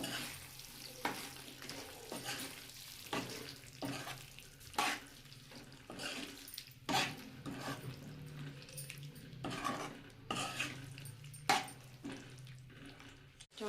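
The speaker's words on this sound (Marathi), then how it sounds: "आता हे चांगलं मिक्स करून घेते मसाल्यामध्ये" Mutton being stirred into masala in a pan, with a soft sizzle under repeated scraping strokes of a spoon against the metal at an irregular rhythm, close and moderately loud with no talking.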